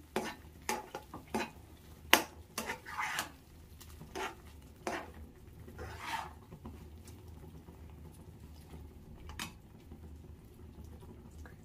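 A spoon works rava kesari with added cardamom powder around a pan, giving faint scraping stirs and soft patters that are busier at first and then settle into a quiet background hum.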